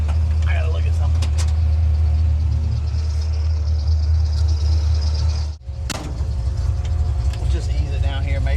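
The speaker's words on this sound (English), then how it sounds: "It's definitely got a misfire." Ford Mustang Foxbody with a misfiring engine, heard from inside while driving: a loud, steady low engine rumble that briefly drops out and restarts, with rattles and knocks over the drone.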